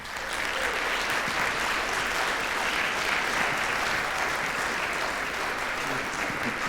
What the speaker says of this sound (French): Je laisse la parole sous un tonnerre d'applaudissements à Kader Attia